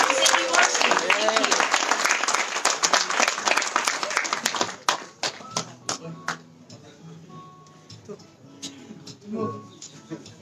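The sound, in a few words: audience applause for Mohammed Abdul Salam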